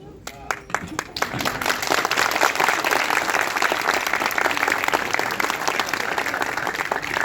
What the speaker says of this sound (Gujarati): ચેતન મેં આ તાળીઓ જોરદાર હતી.